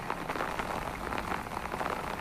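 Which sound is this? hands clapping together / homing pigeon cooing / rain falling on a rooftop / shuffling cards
rain falling on a rooftop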